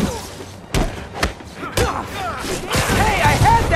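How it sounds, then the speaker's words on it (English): Grenade blasts go off in the Spider-Man video game, several sharp heavy thuds and crashing impacts in quick succession, with game voices talking over the action. "Grenade incoming."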